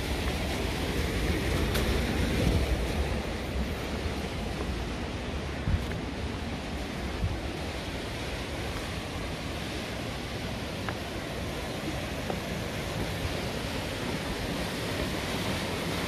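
River water flowing steadily at a mountain pilgrimage site, a continuous broad rushing wash with some wind noise, no voices.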